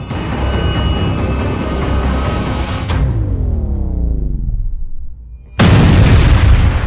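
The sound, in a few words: explosion blast in Krasnodar, news footage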